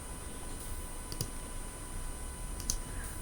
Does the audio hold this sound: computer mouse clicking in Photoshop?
yes